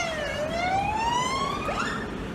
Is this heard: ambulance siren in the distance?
yes